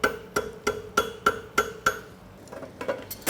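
Steel hammer striking a clip on a St. Croix Forge AdvantageClip horseshoe with the back corner of the hammer, six sharp ringing metallic blows in an even rhythm, then lighter, duller taps.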